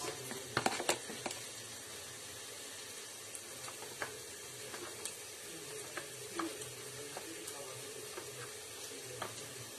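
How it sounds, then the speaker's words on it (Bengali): Food frying until brown in a pan, a steady faint sizzle with scattered pops and clinks of stirring close by. "আর এটা ব্রাউন করে ভেজে নেব।"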